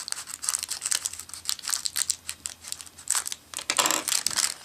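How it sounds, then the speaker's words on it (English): Steady crinkling and tearing of a plastic bag being cut open to get at a blue silicone iPhone 4 case, close and continuous with denser rustling toward the end. "let's cut this bag open here"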